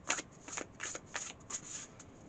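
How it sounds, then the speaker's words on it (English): A Modern Love tarot deck is shuffled by hand in a quiet room, about five soft, crisp riffling bursts of cards in a steady rhythm, close and fairly faint, with no voices. "So overall, it shuffles really nicely"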